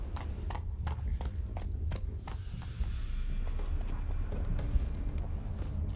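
Horse hooves clip-clop in The Witcher 3: Wild Hunt, a steady rhythmic trot of clear hoofbeats over a low rumbling game ambience, easing into a duller gait midway, with no talking.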